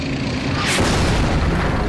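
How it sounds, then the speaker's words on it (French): A tank shell strikes another tank in combat, a loud heavy boom that bursts in partway through and rumbles on through the rest, close and deep. "Un de nos chars a reçu un autre obus."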